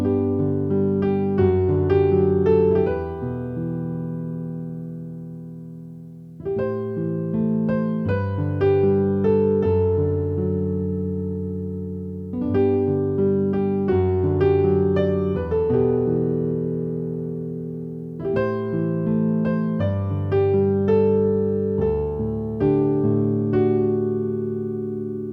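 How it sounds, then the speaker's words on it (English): A piano plays the instrumental section of a song, an easy accompaniment arrangement of steady broken chords with a bass note at each change, the pattern repeating in four phrases, close and clear with no voices. "So the entire instrumental section sounds like this."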